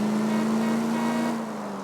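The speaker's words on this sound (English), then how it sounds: "Oh, that Buick sounds good." A Buick's engine in the video game L.A. Noire hums as a steady, smooth drone that holds its pitch and then eases off slightly, close and fairly loud, with no voices.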